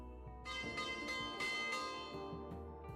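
A bell rings for lunchtime in a detective video game, several resonant clanging strikes in an uneven sequence with long ringing overtones, fairly close and clear, no voices.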